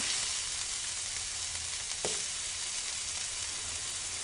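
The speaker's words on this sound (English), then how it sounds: "just stir your meat with your chopsticks back and forth, and then it should be cooking soon." Sukiyaki meat sizzles steadily in a pan as it is stirred back and forth with chopsticks, a constant close frying hiss with one brief clack near the middle and no talk.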